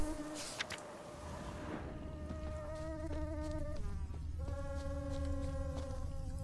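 Flies buzz around a grave in the video game The Witcher 3, a faint, steady, droning hum with wavering tonal whines that carries on throughout over quiet background ambience.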